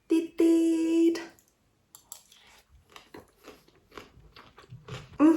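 Close, crisp bites and chewing of a mouthful of avocado, rice and shrimp, with irregular soft crunches and mouth clicks across a few seconds, bracketed by brief tonal sounds at start and end.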